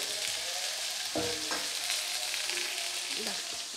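Tomato and green chilli hit hot oil in a pan of masala for dosa filling, giving a loud steady sizzle and crackle with a brief clank of a stirring utensil.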